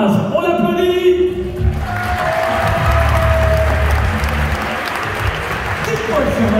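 Outdoor crowd applauding a Gaulish supporter at the Parc Astérix Gauls-versus-Romans match show, loud broad clapping mixed with crowd noise and a voice talking over it.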